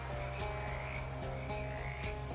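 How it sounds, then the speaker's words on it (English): Frog croaking in the video game Shadows Over Loathing: a few deep, rhythmic croaks with a higher chirp, heard clearly alone over a steady humming background. "I thought I heard a frog"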